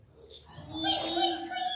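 High-pitched squeaks from voices imitating mice, a short burst of thin overlapping squealing sounds rising after a quiet start.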